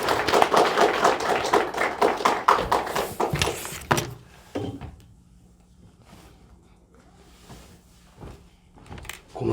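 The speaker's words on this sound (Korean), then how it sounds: "우리 나오실 때 사랑의 박수 보내겠습니다." A church congregation gives a warm round of applause, a dense burst of clapping for about four seconds that quickly fades to sparse scattered claps and room quiet.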